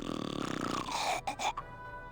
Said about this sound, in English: At least he sounds more normal now when he's snoring